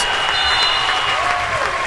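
Home crowd at the end of an England versus Switzerland men's futsal Euro qualifier cheering and applauding as the final buzzer sounds, a loud, continuous indoor roar with a tone sweeping through it.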